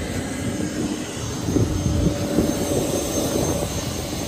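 A steady aircraft engine drone hums continuously at Canberra Airport, with a high whine on top, fairly loud and unbroken throughout.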